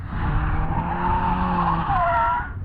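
Tires on a Caterham race car squeal in a sustained skid lasting over two seconds, loud and close, with the engine rumbling underneath and the squeal rising in pitch near the end.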